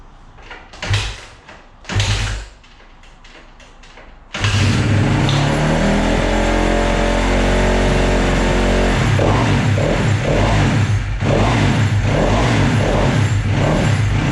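A 2012 Kawasaki KX250F dirt bike engine with fresh top-end work: two short kick attempts and sputters, then it catches and runs loud and steady, with revving blips and fluctuating pitch up close.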